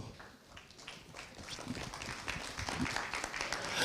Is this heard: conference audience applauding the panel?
yes